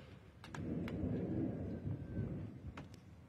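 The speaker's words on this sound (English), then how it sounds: "And the thundering." Low, rolling thunder rumbles continuously in the distance, a deep steady roar with a few faint higher clicks on top.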